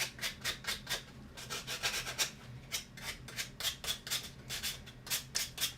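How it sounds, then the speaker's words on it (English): Sanding block rubbing along the sides of a wooden piece, a series of rhythmic back-and-forth rasping strokes, soft and close, repeating steadily without speech. "I'm just going to be sanding the sides here."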